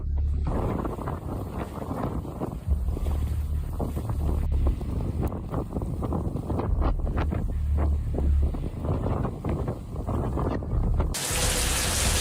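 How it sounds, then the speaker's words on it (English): Strong wind buffets the microphone in loud, continuous gusts after Hurricane Ian in St. Augustine, Florida, with low roaring rumble and occasional sharper blasts. "Getting real windy in just a second."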